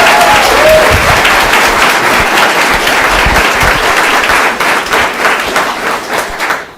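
An audience applauds honorees at a school board meeting with a loud, dense burst of clapping from a crowd that gradually thins toward the end.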